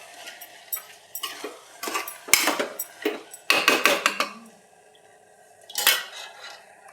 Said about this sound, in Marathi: टाकून पुन्हा एकदा छान हलवून घ्यायचं आपल्याला सगळं